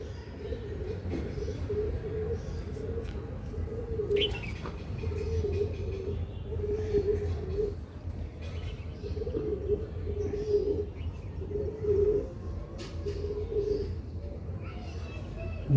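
Pigeons coo in a repeated low, throaty rhythm close by, each coo phrase recurring every second or so over a steady background hum, with someone talking intermittently.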